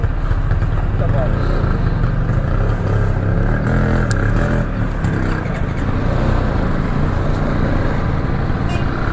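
A motorcycle engine runs steadily at a border crossing between Iran and Iraq. The engine sound is continuous, loud and close, with traffic and a voice talking over it.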